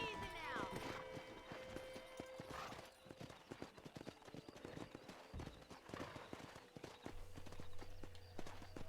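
Horse hooves clip-clop in the Red Dead Redemption video game on a ranch near wild horses, a steady walking rhythm with a neigh early on, under quiet spoken dialogue and music.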